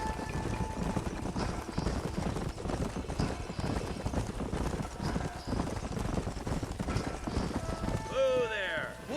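Horses' hooves clip-clop steadily over ground in the Western video game Red Dead Redemption, close and continuous, with a voice talking over them and a horse whinnying near the end.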